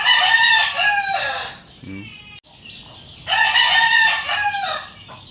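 Backyard chickens cluck while a rooster crows loudly twice, the crows close and strong with a quieter gap of soft clucking between them.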